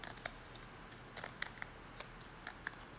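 Scissors snip through a WD Passport hard drive's circuit board, a series of sharp, crisp cuts arriving irregularly, close and fairly quiet, with no talking.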